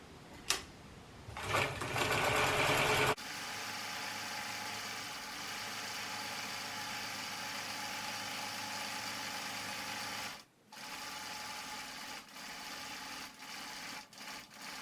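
A sewing machine runs steadily, stitching a baby's hat lining around the edge, with a few short starts before a long continuous run that pauses briefly near the end, close and alone.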